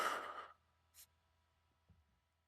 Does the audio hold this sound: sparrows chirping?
no